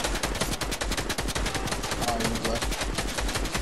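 Rapid automatic gunfire in the video game Fortnite rattles continuously as dense, loud, evenly spaced shots, with occasional player voices beneath.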